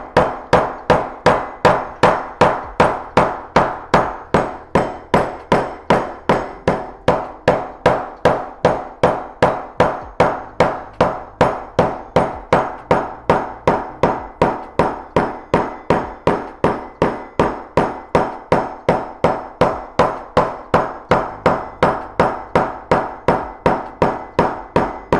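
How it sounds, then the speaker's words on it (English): Steady, evenly paced hammer blows ring out on metal being flattened, dozens of sharp strikes in a regular rhythm close by. "I'm gonna be hammering this down next"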